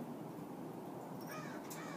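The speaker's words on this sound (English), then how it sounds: "These are my lovebirds." Pet lovebirds, including a yellow male and a green peach-faced bird, give harsh squawks over a steady noisy background, with a couple of brief calls near the end.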